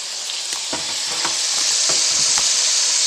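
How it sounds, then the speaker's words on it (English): Butter melts and sizzles in a hot pan with a loud, close, steady frying hiss, broken by a few soft clicks of stirring. "See, our butter's melting real good."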